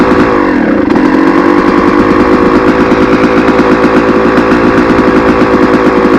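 A 2002 Honda CR250R two-stroke motocross bike catches after a kick start and settles into a loud, close, fast-idling engine, its rapid crackling pulse holding steady and unbroken.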